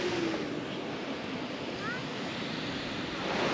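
Sea waves wash against a headland beneath a lighthouse, a steady, broad roar of surf with wind running through it for the whole stretch, fairly loud and with no clear talk over it.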